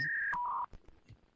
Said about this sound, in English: Dial it up one more time.